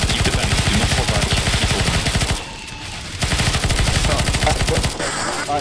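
Rapid automatic gunfire in a CS:GO zombie escape round, loud sustained bursts of rattling shots that pause briefly before resuming, with faint voices underneath.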